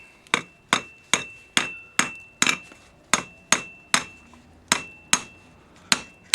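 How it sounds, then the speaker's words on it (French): Hammer striking hot metal on an anvil while forging a witch hat, about fifteen sharp ringing blows in an even, quick rhythm, close and loud. "je vais venir me mettre sur cette face-là de l'enclume et je vais commencer à frapper en donnant un angle comme ça"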